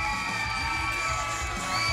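A wrestling arena crowd from a July 1996 broadcast cheers in a steady, dense roar, with scattered shouts and whoops rising over a constant bright hum.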